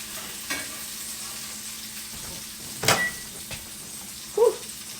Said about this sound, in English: turkey sausage is smoking